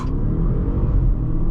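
A 2017 Audi A8L 4.0T Quattro pulls hard from a launch, its engine a loud, continuous deep rumble and roar from inside the car with no talk over it.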